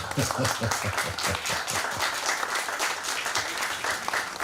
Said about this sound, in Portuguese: eu acho que vale a pena uma salva de palmas,